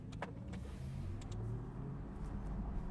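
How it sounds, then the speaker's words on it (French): Car engine roaring outside, heard faintly as a low continuous rumble with a rising rev, under a quiet indoor room. "Écoutez ce petit vrombissement de dehors, il est incroyable."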